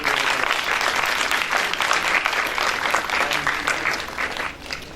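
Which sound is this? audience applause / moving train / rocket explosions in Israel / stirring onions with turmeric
audience applause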